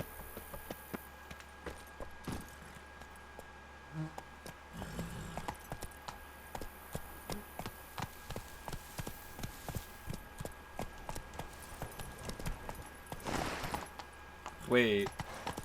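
A horse's hooves clip-clop in a steady walking rhythm in the video game The Witcher 3: Blood and Wine, close and even throughout, with a person talking over it at times.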